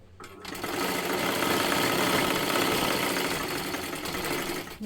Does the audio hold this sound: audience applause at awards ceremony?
no